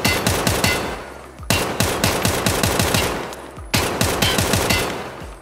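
An SA-58 rifle in Escape From Tarkov fires three long, loud, close automatic bursts of rapid, evenly spaced shots with brief gaps between them.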